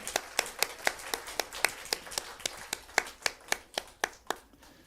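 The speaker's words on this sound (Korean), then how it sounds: "우리 박수 한번 칠까요?" A church congregation claps in celebration of a baptism at a Sunday service, a run of about twenty sharp, evenly spaced claps at a steady moderate tempo, fairly close and alone, fading out at the end.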